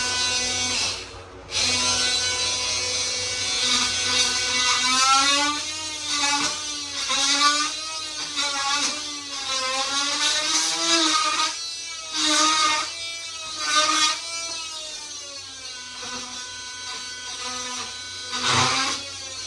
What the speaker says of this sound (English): Maybe I'll get my Sawzall involved.